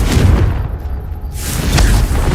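Fire spell blast in Hogwarts Legacy gameplay: a loud, booming explosion with a heavy low rumble that swells, briefly dips, then surges again in a dense roar, with no talking.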